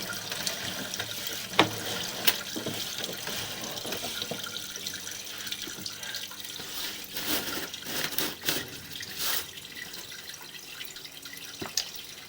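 Water trickles and drips inside a house built around 1918–1919, with a continuous faint flow broken by scattered sharper drips and splashes.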